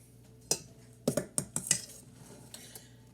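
Metal serving spoons clink and clatter against each other and dishes in a quick burst of about half a dozen sharp knocks, close and fairly quiet, with no talking.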